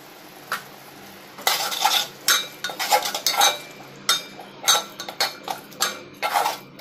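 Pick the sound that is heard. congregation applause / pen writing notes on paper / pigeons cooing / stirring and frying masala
stirring and frying masala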